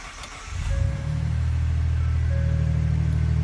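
A car engine fitted with aftermarket ignition coils, still misfiring, cranks and catches within half a second, then settles into a steady, loud, low idle rumble close by.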